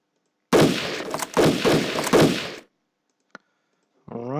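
Unit firing in the Battle Academy 2 Eastern Front war game: three loud, close bursts of gunfire run back-to-back, followed by a lone faint click and then a rising whine near the end.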